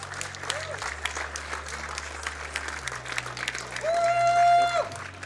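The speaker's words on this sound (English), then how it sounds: "Can we get a round of applause for that?" An audience at TwitchCon EU 2019 claps and applauds continuously after a Mega Man 2 speedrun, a wash of many hands at moderate distance, with music playing and a voice talking over it.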